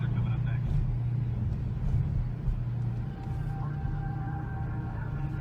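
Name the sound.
car driving down the street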